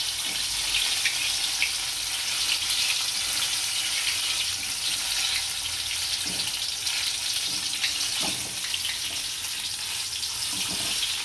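Tomato bhajiya fritters frying in hot oil in a home kitchen as they are turned over, a steady dense sizzle with faint scattered crackles and soft clicks throughout.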